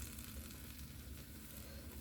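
Eggplant sautéing in a pan, a soft, continuous sizzle and crackle with faint stirring underneath, steady and close, no talking.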